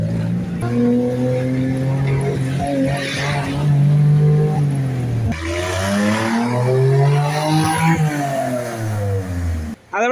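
A car engine revs repeatedly, pitch climbing and falling in loud surges, close by, with a brief cut near the end.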